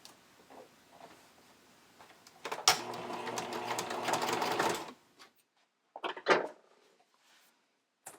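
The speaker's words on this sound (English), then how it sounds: "I'm going to use a narrow zigzag and serge the raw edge" A sewing machine serges a raw fabric edge on bikini bottoms with a narrow zigzag stitch, a steady close whirring burst of about two seconds. Softer handling clicks and fabric shuffling come before and after.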